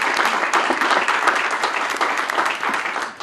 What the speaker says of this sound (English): We can give Councilmember Will Campos a round of applause,